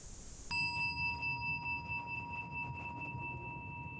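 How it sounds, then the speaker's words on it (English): A single bell is struck once in a quiet chapel, a clear ringing tone with a sharp onset that sustains and slowly fades over several seconds, alone with no talking. "We can practice listening to the sound of the bell and to the silence."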